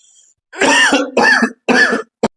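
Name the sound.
coughing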